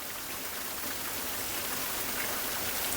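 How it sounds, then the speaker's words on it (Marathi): Steady broadband rush of water, continuous and fairly loud, as monsoon rainwater pours down through mountain rock crevices near Badlapur, with no voices. "हे डोंगर कपारीतनं वाहणारं पाणी"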